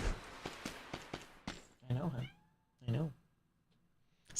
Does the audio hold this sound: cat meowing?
yes